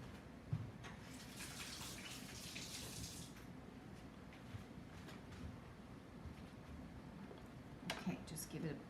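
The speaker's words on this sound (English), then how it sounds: "Wash my hands." A tap runs steadily as hands are washed in a kitchen while a king crab salad is prepared, a continuous watery hiss under light talk with a few small knocks.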